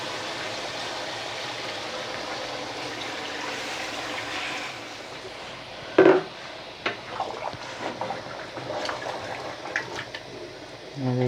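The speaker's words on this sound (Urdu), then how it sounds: "اس میں ہم 1 جگ پانی ایڈ کریں گے۔" A jug of water pours into a cooking pot of white gram chicken, a broad rushing splash of liquid running for several seconds with gurgles and clatters as it settles, no talking.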